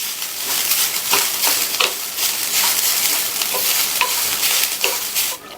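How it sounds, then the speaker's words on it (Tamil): Steady dry sizzling and scraping as roasted gram and grated coconut roast in a hot pan, with repeated stirring strokes, close and continuous, no voices. "2 டேபிள் ஸ்பூன் பொட்டுக்கடலையும் 3 டேபிள் ஸ்பூன் தேங்காய் துருவலும் சேர்த்து எல்லாத்தையுமே 2 நிமிஷத்துக்கு வறுத்துக்கலாம்"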